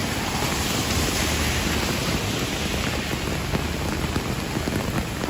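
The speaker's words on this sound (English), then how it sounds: "And the rain is really coming down now." Heavy rain pours steadily onto a Manhattan street across from the St. Regis Hotel on New Year's Day, a dense, constant hiss of drops hitting pavement that fills the whole scene without a break.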